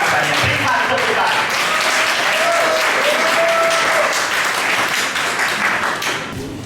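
Sustained applause fills a hall at a closing ceremony for a training programme, dense and steady, with a voice briefly audible underneath before the clapping fades near the end.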